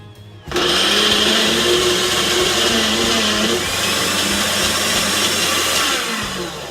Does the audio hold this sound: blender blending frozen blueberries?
yes